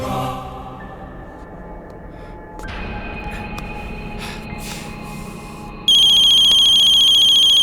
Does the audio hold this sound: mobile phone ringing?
yes